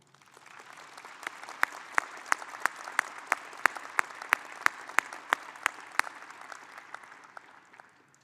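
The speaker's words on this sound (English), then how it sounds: "Graduates, please join me in a round of applause for our faculty." At a fall commencement ceremony, graduates give the faculty a round of applause: a broad wash of crowd clapping that swells in and tapers off, with sharp, evenly spaced louder claps standing out near the mic through the middle.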